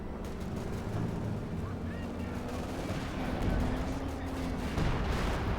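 Sturmpanzer gunfire striking a rifle squad in the strategy game Company of Heroes 2, a steady rumble of battle with low booming shots and engine drone, heard under continuous commentary talk.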